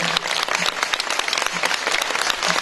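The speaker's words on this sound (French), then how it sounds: "vos applaudissements." Audience applause at a gala for the election of the Reine des Sables d'Olonne, dense continuous clapping from a crowd, loud and sustained throughout.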